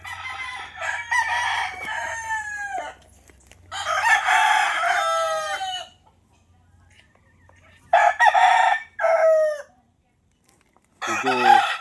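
A rooster crows loudly several times in long, strained calls separated by silent pauses, with a few short clucks mixed in.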